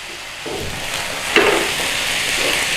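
Cognac catching flame in a tilted pan over the heat for a green peppercorn sauce au poivre, a steady close sizzle and hiss with a brief brighter whoosh midway.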